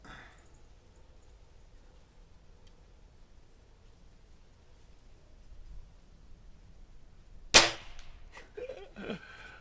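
A Weihrauch HW97K air rifle fires a single shot at a small target, a sharp close crack and a short rattle of the action after near silence.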